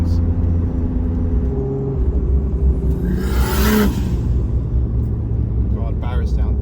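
High-horsepower Toyota Supra engine with an external wastegate, a loud steady rumbling drone with a rising whooshing surge in the middle, close by, while someone talks over it.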